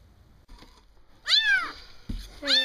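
Three newly rescued kittens meowing, with a couple of loud, rising-and-falling cries close by and some faint handling noise before them.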